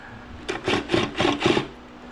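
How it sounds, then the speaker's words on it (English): An impact drill drives a bolt into a Merits Vision CF power chair while an elevating leg rest is fitted, giving four short rattling bursts in quick succession, close and fairly loud, with no one talking. "I'm just gonna use my impact drill to bring that in."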